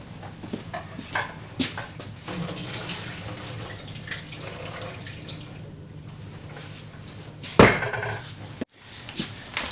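Water being poured off a pot of boiled potatoes into a sink: a steady splashing pour lasting several seconds, fairly close, with a brief clatter near the end and no talk.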